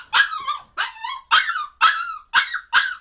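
A puppy in a crate barks and yelps close by, six sharp, high-pitched barks in a fairly steady rhythm with brief gaps between them and no voices.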